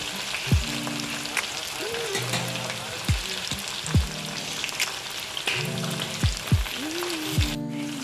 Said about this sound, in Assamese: এতিয়া প্ৰথমতে আমি মিডিয়াম ফ্লেমত ভাজি লৈছোঁ।